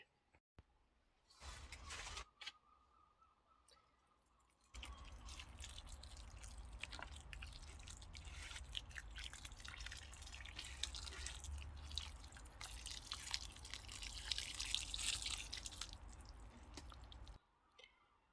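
Water drips and squelches as a soil box for tomatoes soaks in a greenhouse, a close wet trickle that starts in bursts then runs as a steady patter for most of the stretch before stopping.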